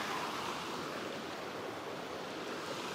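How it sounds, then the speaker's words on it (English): Smiley Creek in the Pioneer Mountains of Challis National Forest runs in a robust, steady flow, with broadband rushing water that stays close and loud throughout, with no talk over it. "Smiley Creek, quite a robust flow"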